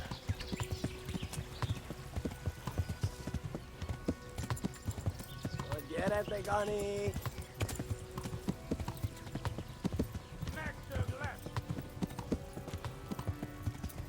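Rapid clip-clop of a galloping horse in the medieval game Kingdom Come: Deliverance pounds on continuously and close, with short neighs midway and voices talking over the running hooves.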